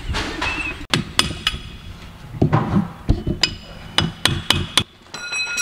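Sharp metallic blows of a hammer striking a punch ring out one after another at an uneven pace, close and loud, over a background of workshop clatter.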